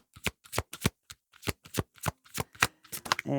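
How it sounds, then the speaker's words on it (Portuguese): Tarot cards are snapped down one after another onto a table, about a dozen crisp, close slaps in an uneven rhythm, ending with a brief riffle of cards. "Só mais 3 cartas na mesa."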